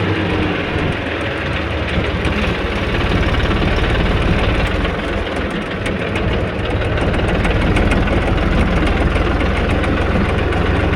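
A tractor's engine idles steadily and close by in a village setting, a dense low rumble with a faint knocking pulse that holds level and alone for the whole stretch, without talk.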